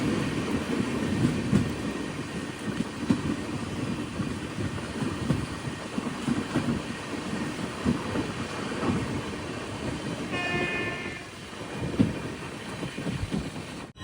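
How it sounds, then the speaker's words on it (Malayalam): The Kanniyakumari–Rameswaram Express rolling into Ramanathapuram railway station, a steady moderate rumble and clatter of wheels on rail, with a brief high squeal of brakes or wheels late on as it slows. "ഈ റൂട്ടിലെ പ്രധാനപ്പെട്ട റെയിൽവേ സ്റ്റേഷനായ രാമനാഥപുരത്തേക്ക് ഇതാ ട്രെയിൻ എത്തി"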